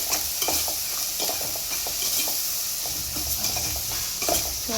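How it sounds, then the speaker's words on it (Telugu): An onion and tomato masala with ginger garlic paste is stirred in a pan while frying for a chicken liver fry; a soft continuous sizzle runs under repeated scraping strokes of the spoon. "ఒకసారి అయితే మొత్తం కలిపేసుకోవాలి ఇట్లా."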